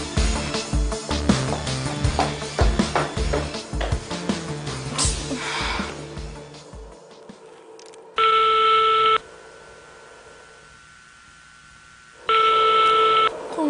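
A phone call goes unanswered, with a stretch of rustling and handling noise followed by two loud electronic ringback tones separated by a pause, heard alone without talk.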